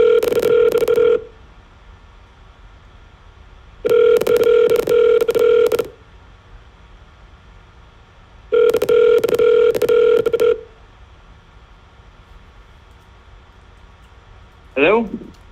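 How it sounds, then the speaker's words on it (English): Rapid telephone keypad dialing tones during a sales cold call, three loud bursts of fast touch-tone beeps separated by quiet pauses, with a brief faint voice at the end. "I'm just going to hit these dials real fast."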